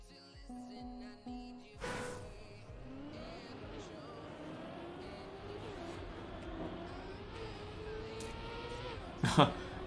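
Race cars in the Trackmania video game drive past, a thin whining engine drone rising and falling under a person talking, with a sharp burst of noise near the end.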